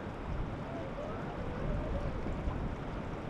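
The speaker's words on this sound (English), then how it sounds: "Water's bubbling." Glacier-fed water bubbles up in a mountain stream in the Ruby Mountains, Nevada, a close, continuous rushing wash with no pauses, slightly swelling midway.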